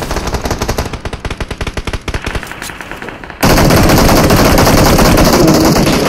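Rapid automatic gunfire in the mobile battle-royale game PUBG Mobile, loud bursts of fast repeated shots that give way to a dense, continuous roar of overlapping fire, with no talk over it.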